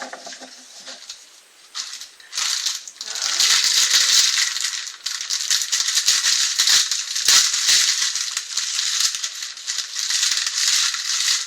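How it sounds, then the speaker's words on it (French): Loud, continuous crinkling and rustling of paper being unwrapped close by, with bursts of crackling handling and no talking. "Je suis désolée pour le bruit que j'ai fait en ouvrant les papiers."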